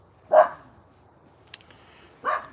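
A dog barks twice, each a single sharp bark about two seconds apart, clear and fairly near against a quiet background, with a faint click in between.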